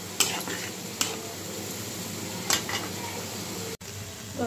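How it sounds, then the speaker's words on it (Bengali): Spice paste for a Bengali fish curry with potatoes, made with shoal fish, sizzles steadily in a hot pan, with a few sharp clinks of a spoon against the metal as it is stirred close up. "মশলাটা আমি ভালো করে কষিয়ে নেব, তারপরে মাছ আর আলুটা দিয়ে দেব।"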